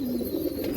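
Pigeons kept at a house give a brief, low, steady throaty coo, close by and moderately quiet, with a faint background hiss.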